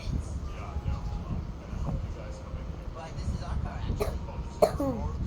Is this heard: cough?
yes